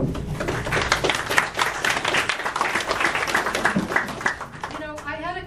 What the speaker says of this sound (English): can you hold the applause until the very end?